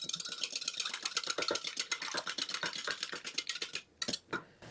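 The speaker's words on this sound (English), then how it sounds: "I have 1 1/4 cup of milk. I'm going to add 1 egg. Whisk that together." Milk and an egg are whisked together in a bowl for pancake batter, giving a fast, close, rhythmic clicking and scraping that continues steadily with a brief pause near the end.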